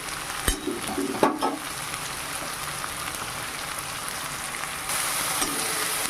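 Ground cumin and coriander with ginger-garlic paste frying in oil give a steady, close sizzle, broken early by a few clinks and scrapes of stirring, with the hiss growing slightly louder near the end.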